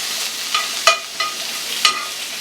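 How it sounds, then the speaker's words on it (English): Peppers and onions sauté in a pan on a kamado grill, giving a soft steady sizzle broken by a few sharp clinks of stirring. "I got some peppers and onions. I'm going to saute these a little bit."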